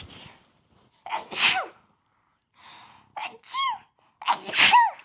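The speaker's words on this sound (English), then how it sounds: "I gotta sneeze." A person sneezes several times in quick succession, with sharp gasping inhales between the loud bursts, close up.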